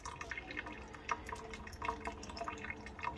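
Water runs from a kitchen sink faucet in a faint, continuous trickle broken by small splashing drips, heard close and alone.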